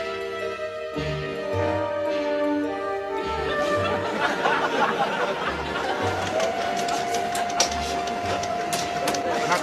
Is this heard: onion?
no